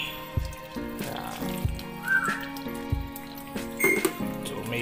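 Water drips and trickles through a steamer used as a strainer for sprouting beans under a damp cloth, with irregular close splashes and patters over a steady running-water hiss.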